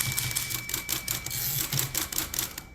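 Royal KMM manual typewriter typing rapid key strikes toward the end of the line, a quick, fairly close run of clacks that ends in a short mechanical clunk.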